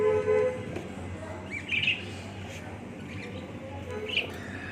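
Pet birds kept at home chirp in brief, faint bursts against steady room noise, a few isolated tweets scattered through quiet low background hum.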